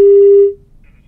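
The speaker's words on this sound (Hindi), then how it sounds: "संकेत हमारे साथ में फोन लाइन पर जुड़े हुए हैं।" A single steady telephone tone sounds loud and clean for about half a second as a phone line connects, then cuts off into near silence.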